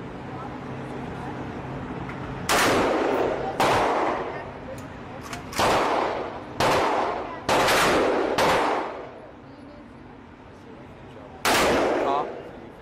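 Gunshots at a shooting range, heard as a series of loud, sharp bangs spaced a second or two apart with echoing decay, over background chatter.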